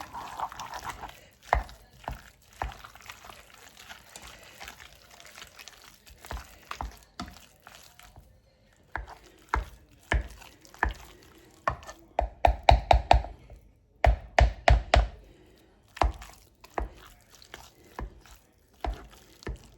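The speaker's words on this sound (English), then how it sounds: "let's start mashing our potatoes with the butter" Potatoes and melting butter get mashed in a pot with a hand masher, giving irregular soft squelching thuds that quicken into clustered, louder strokes toward the end, with short pauses between.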